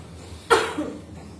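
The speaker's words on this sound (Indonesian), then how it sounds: "Coba Ibu batukkan yang kuat." A single sharp, forced cough from a woman bursts out abruptly, loud and close, during choking first aid, followed by a brief fading tail, then quiet.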